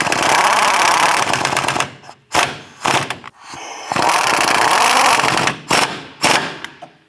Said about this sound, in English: Go ahead and tighten down our brace bolts here.